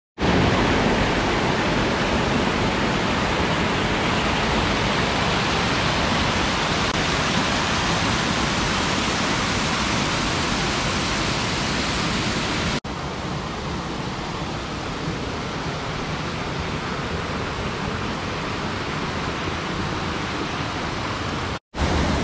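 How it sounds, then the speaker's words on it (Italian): A small waterfall in the rocky Orrido di Chianocco gorge in Piedmont gives a loud, steady wash of rushing water, close and continuous, with a brief drop-out near the end and no speech. "Piccola cascatella."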